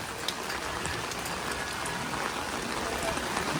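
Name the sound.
heavy rain at Naina Devi temple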